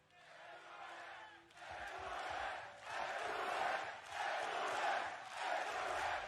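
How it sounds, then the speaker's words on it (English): Large arena crowd at a Valorant esports grand final, FPX versus Paper Rex at VCT Masters Copenhagen 2022, roaring and cheering in repeated swelling waves, loud and continuous, with an announcer's voice faintly under the noise. "The crowd giving them the best chance, hyping up the PaperX players, wanting them to get back into this game."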